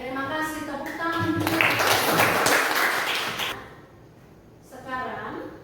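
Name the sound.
applause in a classroom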